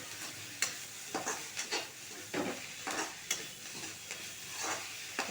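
Ponnanganni greens stir-frying in a pan give off a steady sizzle, broken by repeated scraping and stirring strokes at an irregular rhythm, close and moderately loud, with no voices.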